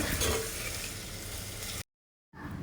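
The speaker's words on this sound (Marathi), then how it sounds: "बारीक चिरलेला कांदा ॲड करून मंद गॅसवर सोनेरी रंग येईपर्यंत आपल्याला तो भाजायचा आहे" Finely chopped onion frying slowly over a low flame for a Maharashtrian mutton curry, a close, steady sizzle with dense crackle that cuts out briefly before resuming.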